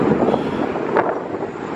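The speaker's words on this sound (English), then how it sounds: "I'm gonna try to get this in over the wind." Strong wind buffets the microphone outdoors near downtown Chicago, a loud, steady rumbling roar with no voices.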